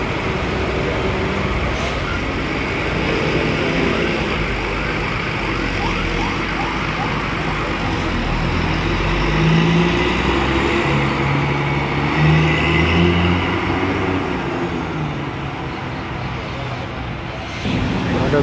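Diesel buses idle and rumble at Tidar bus terminal in Magelang, engines droning steadily as coaches pull out, with a faint horn or whine rising over the busy station hum.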